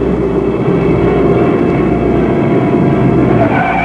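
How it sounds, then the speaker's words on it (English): Stock cars racing in the Darlington Southern 500 produce a loud, continuous engine roar that holds steady throughout with no talk over it. "Speedy Thompson in car 22 takes the lead from his front row starting position"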